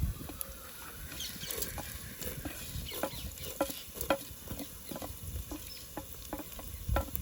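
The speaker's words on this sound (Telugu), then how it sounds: "పోపులు వేస్తున్నాను" Tempering spices sizzling in hot oil while a dried prawn and sesame curry is cooked, a steady crackling hiss with scattered sharp pops and stirring scrapes throughout, close and alone.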